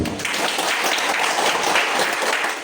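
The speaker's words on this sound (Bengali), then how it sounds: "আমরা এই আয়োজনে সিএসটি কনস্ট্রাকশনের জন্য একবার সজোরে হাততালি দিচ্ছি" An audience at a construction chemicals company gathering in Comilla applauds loudly and steadily, a dense wash of many hands clapping close by for a few seconds.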